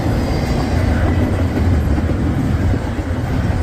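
A train rolls past a downtown rail-watching spot in North Baltimore, a loud, continuous close rumble of wheels and cars with no talk.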